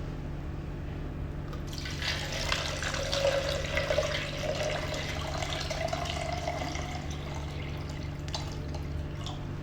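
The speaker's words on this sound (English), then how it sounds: "Okay, now we inject water." Water being poured into the tank of a cryotherapy machine, a continuous trickling and splashing fill over a low steady hum, fairly close and moderate in level.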